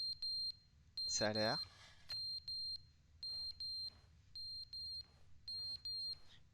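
A fire alarm in The Stanley Parable beeps in a steady repeating pattern of short, high electronic tones. Someone speaks briefly over it.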